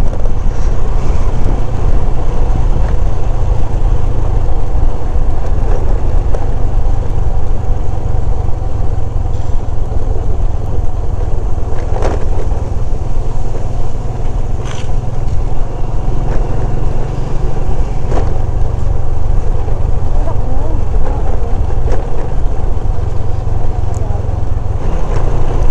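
Motorcycle engine running steadily on a mountain road, a continuous low drone with wind buffeting, loud and close throughout, with brief faint voices.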